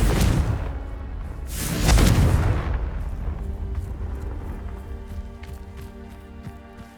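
Confringo fire-blast spell from Hogwarts Legacy striking with a loud booming explosion at the start, then a second big whooshing blast, followed by a rumbling fiery tail that slowly fades.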